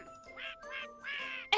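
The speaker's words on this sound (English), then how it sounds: "Max who quacks" A talking duck character in the video game Dread Weight gives a few short nasal quacks in a rhythmic series, close and clear, ending in a sharp bright chime.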